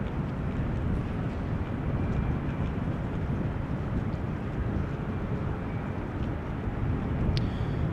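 A Boeing 777 airliner taxis at Amsterdam Schiphol Airport, its engines a steady, broad low rumble and roar that holds constant throughout, moderately distant with no voices.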